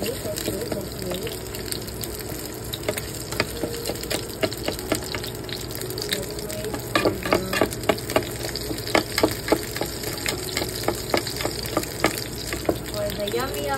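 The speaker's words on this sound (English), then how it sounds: "well cooked sunny side of egg, like a pro" A sunny side up egg frying in a pan, a continuous loud sizzle and crackle with scattered pops throughout, steady and close.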